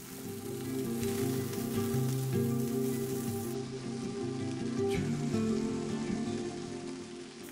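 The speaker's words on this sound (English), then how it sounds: "2 tablespoons chili oil. Red onions. Saute for 1 to 2 minutes." Red onions sautéing in chili oil for Hong Kong style chow mein, a steady, soft hiss and crackle of frying that continues evenly throughout, with no voices.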